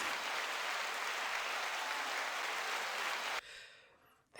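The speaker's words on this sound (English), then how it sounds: "How about a round of applause?" Audience applause from a podcast crowd, a steady wash of clapping for about three seconds that cuts off abruptly into near silence.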